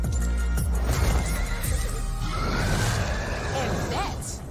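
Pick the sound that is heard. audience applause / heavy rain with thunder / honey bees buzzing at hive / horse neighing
horse neighing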